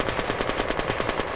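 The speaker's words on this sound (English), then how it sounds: "He was shooting me, man." Rapid automatic gunfire from the Unturned video game, a fast continuous burst of evenly spaced shots, loud and close, with no talking.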